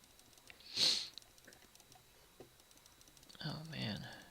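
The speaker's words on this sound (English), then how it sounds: "The sniffles for some reason." A person sniffles sharply through the nose once near the start and again toward the end, quiet and close, with soft keyboard typing and faint clicks between.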